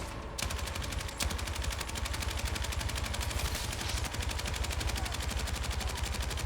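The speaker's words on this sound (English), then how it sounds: "people are gonna complain about the recoil on this gun" Rapid, continuous automatic gunfire from the video game Battlefield 6 hammers away nonstop for over six seconds, with dense rattling bursts that are loud and steady throughout.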